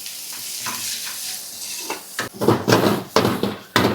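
Onions, capsicum and mixed vegetables for veg chow mein fry in hot oil with steady sizzling, then stirring and scraping in the pan bring sharp, uneven clatters over the crackle; close.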